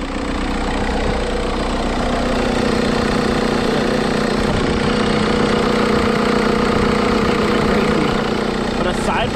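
A Volkswagen MK4 TDI wagon's diesel engine idles at a junkyard, a steady, loud, continuous rumble with a faint rattle that holds throughout without change.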